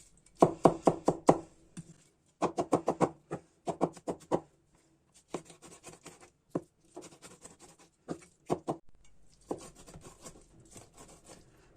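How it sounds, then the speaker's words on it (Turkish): A zırh mincing knife rocking and chopping through garlic and onions on a board, bursts of quick close knocks and scrapes in clusters separated by short pauses. "Hepsini birden zırhtan geçireceğim."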